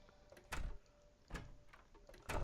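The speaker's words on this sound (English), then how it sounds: "I could hear the door opening." A wooden door in the Terraria video game opens with short, clunky clicks, three brief broadband bursts spaced about a second apart over faint game ambience, fairly quiet and close.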